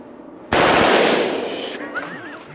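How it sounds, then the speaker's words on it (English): A military automatic weapon fires a short burst on full auto, a sudden loud rattling blast that rings out and decays into echo across an open range. "we're going to auto now. Now it's just short bursts, eh?"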